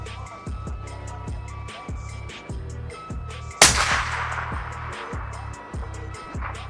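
A single sharp precision rifle shot rings out at an outdoor range, loud and close with a lingering report, set against a steady rhythmic mechanical pulsing in the background.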